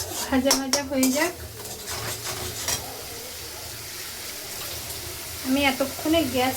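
Food sizzles and fries in a home kitchen pan while a utensil stirs and scrapes against it, with clattering bursts at the start and end and a softer steady frying hiss between, under a speaking voice.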